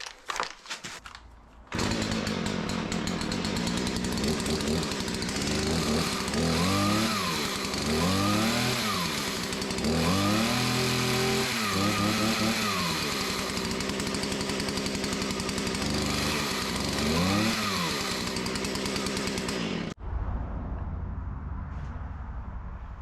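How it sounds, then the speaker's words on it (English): A chainsaw fitted with a Log Wizard debarking attachment runs loud and close, its engine revving up and down repeatedly at high pitch, then cutting off abruptly near the end. "So that's how to install a log wizard on a chainsaw"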